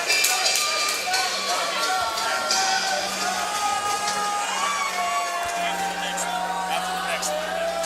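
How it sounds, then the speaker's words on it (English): A fight crowd at a USFFC 22 Metal and Mayhem event roars between rounds, a continuous wash of cheering, whoops and shouts with a low hum beneath, while a commentator talks over it. "And listen to that crowd. They're still going nuts here in between rounds."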